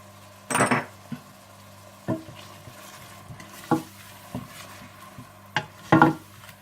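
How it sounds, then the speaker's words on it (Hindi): A spatula stirs chili, turmeric, cumin and coriander powder with salt in a pan, giving a handful of separate scrapes and clinks against the metal over a faint, low sizzle. "सुर्ख मिर्च पाउडर, हल्दी पाउडर, जीरा पाउडर, धनिया पाउडर और नमक डालकर अच्छी तरह से भून लें।"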